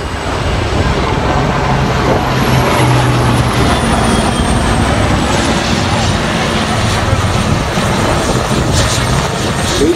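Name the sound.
military transport helicopter flying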